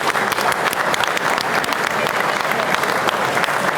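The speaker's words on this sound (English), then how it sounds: "A round of applause." Audience applause at an awards ceremony, a steady dense clapping from a full room that holds at an even level throughout, with a faint murmur of voices beneath.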